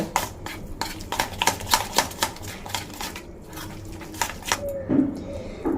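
Raw papaya batter with a pinch of baking soda being beaten and stirred, producing a rapid, steady run of close tapping and scraping strokes against the bowl.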